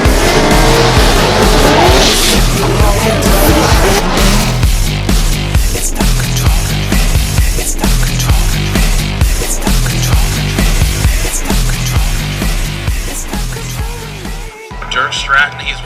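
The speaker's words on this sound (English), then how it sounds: "Dirk Stratton, he's warming up his tires in his Lingenfelter Stratton Chevrolet Corvette" A Lingenfelter Chevrolet Corvette drift car warms its tires at a 2019 Formula Drift event in Atlanta: a loud, sustained engine roar with squealing, skidding tires throughout, fading slightly near the end, with voices partly under it.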